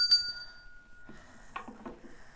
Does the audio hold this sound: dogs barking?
no